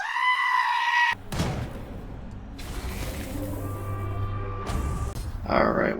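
A goat in the video game Wasteland 3 bleats loudly and harshly, with broad cries and a burst near the end over a steady game soundtrack.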